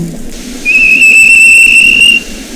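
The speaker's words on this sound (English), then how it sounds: "the whistle blew, and James thought they'd better go" A single long, loud steam engine whistle sounds for about a second and a half, steady and shrill, then cuts off.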